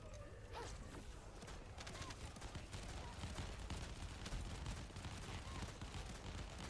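Rapid gunfire from a video game, dense bursts of shots running steadily throughout at moderate level, with faint scattered clicks and thuds mixed in.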